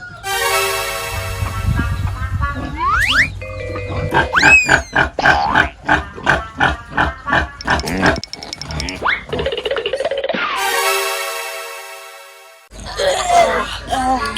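A pig raised at home for a birthday lechon squeals loudly and repeatedly in long shrill cries and rhythmic bursts, close by and mostly alone.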